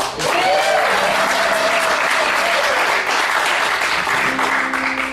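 An audience at a theater show claps steadily and loudly for several seconds, a dense, sustained wash of applause with a voice speaking faintly underneath.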